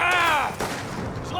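A grenade blast in the video game Mafia: The Old Country, a heavy booming burst that rolls off into a rumbling tail, with a voice shouting over it at the start.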